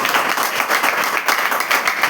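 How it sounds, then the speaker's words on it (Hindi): A crowd applauds at a talk, dense, loud clapping from many hands that stays steady and continuous for the whole stretch. "एक बार जोरदार ताली आपके लिए हो जाए"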